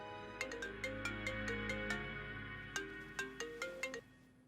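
A phone ringtone plays a bright, repeating electronic melody of short plucked notes, steady and fairly clear, ending abruptly after about four seconds.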